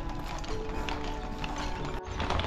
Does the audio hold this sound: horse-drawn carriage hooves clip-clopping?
yes